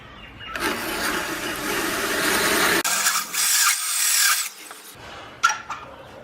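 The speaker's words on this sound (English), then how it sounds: "so instead I'm using this electric drill" Harsh, grinding rasp of an electric drill boring a depth hole into spalted silky oak on a lathe, surging and easing in a few bursts with brief pauses between, close and fairly loud.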